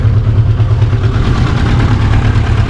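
A 1980 IZh Kombi motorcycle engine idling up close, a loud, steady low-pitched thrum with a quick regular pulse, running quietly and almost evenly with slight rocking, no voices.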